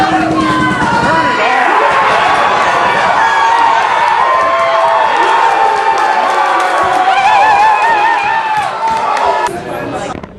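A loud crowd cheers and shouts in a sustained roar of mixed voices that holds steady for about ten seconds and tails off at the end.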